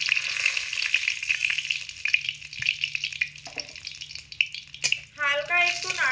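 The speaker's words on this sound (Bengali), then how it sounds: "তেল ভালো করে গরম করে নেওয়া হয়ে গেলে এর মধ্যে 1 চামচ কালো জিরে দিয়ে দেব ফোড়নেতে, একটা তেজপাতা আর একটা শুকনো লঙ্কা।" Nigella seeds, a bay leaf and a dried chilli sizzle in hot oil for a Bengali potato curry, a bright close spitting hiss with a few clinks, then a short tonal squeak near the end.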